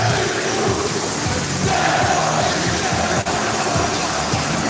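A hot wrestling arena crowd at Monday Night Raw, a dense, loud wash of cheering and roaring that holds steady throughout with no clear individual voices.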